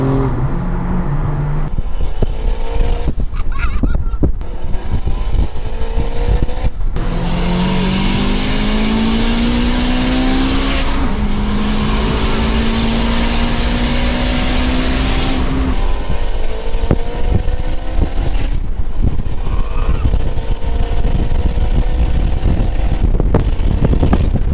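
An Alfa Romeo Quadrifoglio with a Ferrari V6 accelerates hard, its engine note climbing through several gears with sharp breaks at each shift, loud and close.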